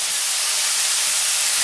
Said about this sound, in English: So I just added these veggies to my pan.